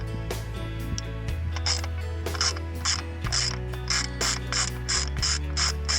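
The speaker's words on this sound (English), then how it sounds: "let's remove this first bolt." A ratchet on a 2000 Toyota Corolla loosens a spark plug area bolt, with rapid pawl clicks in rhythmic bursts of strokes. It is close and clear over a low steady hum.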